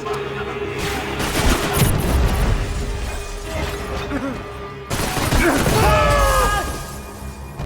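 Loud, dense gunfire and explosive bursts from a shootout in the video game Max Payne 3, inside a cramped crime scene analysis station, with continuous overlapping shots, crashes and whizzing sounds layered over game music.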